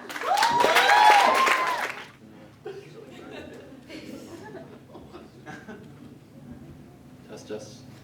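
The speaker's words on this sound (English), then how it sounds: "Give him a good round of applause." A short burst of audience applause and laughter rises loudly, then fades quickly into quieter murmuring and talk.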